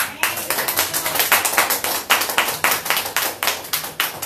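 A church congregation claps in unison, a steady rhythmic beat of roughly three claps per second, loud and close, with no talk over it.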